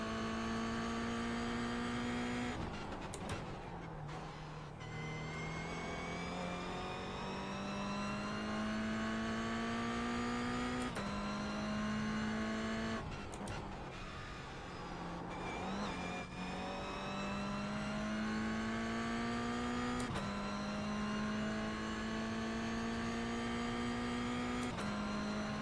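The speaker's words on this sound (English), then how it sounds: "You can hear as the car bounces, like the change in the engine though." Engine of a car driven by a learner driver, revving in repeated cycles: the pitch climbs steadily, then drops sharply as the car bounces, about every five seconds, loud and close, with no talking.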